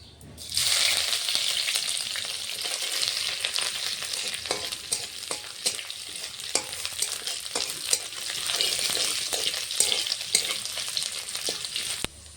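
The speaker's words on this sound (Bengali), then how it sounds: "আর এটা ডালে ফোড়ন দেব। চিপে রাখা এখন আদাটা দিয়ে দেব।" Ginger tempering sizzles steadily in hot oil for a pea dal, a dense, continuous frying hiss with scattered sharp crackles and pops, close and fairly loud, lasting throughout with no talking.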